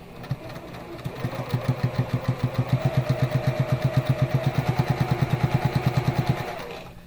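Sewing machine running steadily as it stitches the side seam of a fabric bag, a fast even chatter of needle strokes that stays close and loud throughout with no voices.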